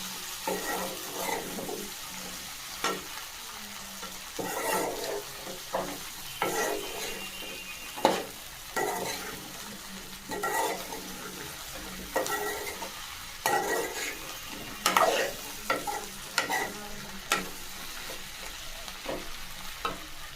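Okra pieces stirred in a frying pan, a steady sizzle of frying with repeated scraping stir strokes coming every second or so, close and fairly loud with no talking.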